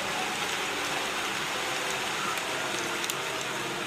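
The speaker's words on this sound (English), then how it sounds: "I'm just so tired of seeing rain, bro. It rained like yesterday and today." Rain pours continuously in an Annoying Villagers animation, a bright even hiss that holds at the same loudness from start to finish, with no voices.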